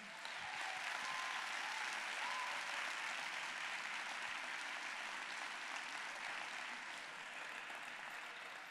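An audience at the Nantes final of the 2019 Ma thèse en 180 secondes contest applauds the candidates in the front row, a steady dense wash of many hands clapping that holds at an even level throughout.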